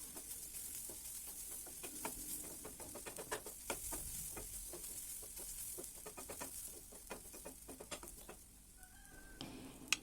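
A carrot stir-fry mixed in a pan, with quiet continuous sizzling and frequent sharp spatula clicks and scrapes; a faint bird chirp is heard near the end.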